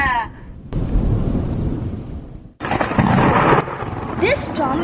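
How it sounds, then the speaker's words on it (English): A staged thunderstorm effect for a Govardhan stage drama rumbles in heavy rolling thunder bursts with a rain-like hiss, loud and close, cutting off abruptly before another crash swells in, with brief tonal sounds at the edges. "This storm is terrible."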